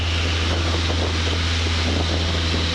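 Light training airplane engine at full takeoff power, a steady loud roar with strong low harmonic drone and broadband wind rush throughout, no talk.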